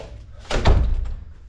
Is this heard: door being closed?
yes